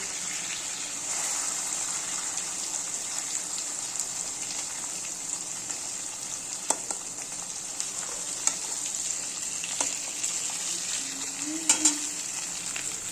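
Masala-coated potatoes fry in a pan with a constant, moderately quiet sizzling hiss, broken by a few brief clicks and scrapes as pieces are turned.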